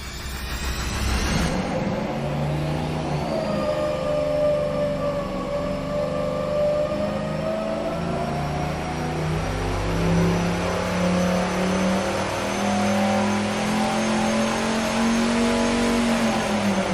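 A supercharged big-block Chevy V8 running on a dyno, with a loud sustained rev that climbs steadily for over fifteen seconds after a short start-up burst, close up and without talk.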